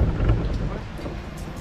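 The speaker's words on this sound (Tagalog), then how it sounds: "Inabot kami ng bagyo." A heavy storm pours rain with deep rumbling thunder, a dense steady downpour close by and no talk over it.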